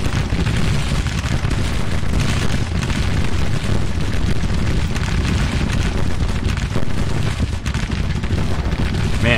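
Massed musket volleys and booming artillery from brigades fighting in the Civil War strategy game Grand Tactician, a dense, continuous roar of overlapping shots throughout.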